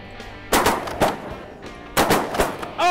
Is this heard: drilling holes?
no